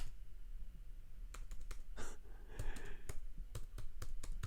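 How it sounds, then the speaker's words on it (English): Quick, uneven bursts of clicking keys as someone types on a computer keyboard, close and crisp, with short pauses between runs of keystrokes and a brief breathy sound near the start. "I'm typing all these curse words"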